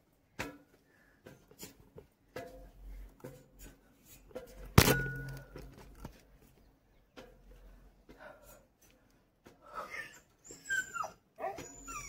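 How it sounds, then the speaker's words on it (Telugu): A dog whimpers and yelps in thin, high cries on a rocky hill trail with steep steps in the Karregutta hills, Chhattisgarh. The cries come in short bursts that grow more frequent near the end, over footsteps and clatter, fairly close. "కుక్క మొత్తుకుంటాంది పాపం, మనం విడిచిపెట్టిపోతాను అని"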